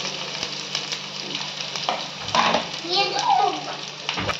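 Chilies, curry leaves, garlic, pepper and crushed cumin frying in hot oil for coconut milk rasam, a steady close sizzle with stirring clatter and a brief louder crackle, under a voice speaking.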